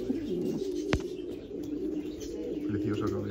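Pigeons coo in a low, continuous murmur, with a single sharp click partway through.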